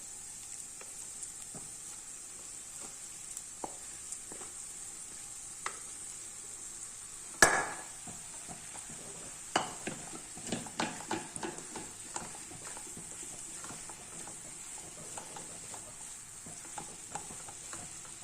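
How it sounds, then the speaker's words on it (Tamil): A mashed vegetable mixture goes into a hot pan with a sudden clatter, then low sizzling runs under a series of scraping, tapping strokes of a spoon stirring it, close and intermittent. "இந்த மசிச்சு வச்சுருக்கிற காய்கறி கலவையை இதில் சேர்த்துடலாம்"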